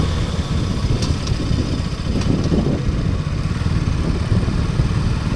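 A BS6 KTM Duke 200 motorcycle rides around a parking lot, giving a loud, steady, close engine drone with a rough low rumble throughout and a couple of faint higher ticks.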